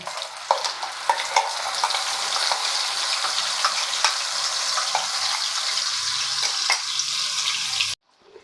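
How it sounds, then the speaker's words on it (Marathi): Ground masala paste frying in oil over a low flame for okra curry: a dense, steady close sizzle with occasional stirring clicks, running evenly until it cuts off abruptly near the end. "आता जे वाटण घातलेलं आहे ते पूर्णपणे आपण तेलामध्ये परतून घ्यायचं आहे"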